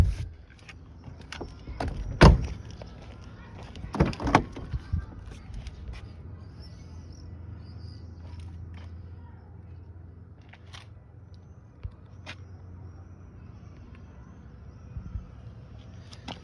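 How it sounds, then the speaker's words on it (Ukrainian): The rear seats of a 2000 Volkswagen Golf 4 1.4 petrol hatchback fold down with a few sharp close clunks and thumps early on, followed by quieter rustles and small knocks in a hushed interior. "Сидіння задні легко складаються і отримуємо ось такий рівний пол разом із багажним відділенням"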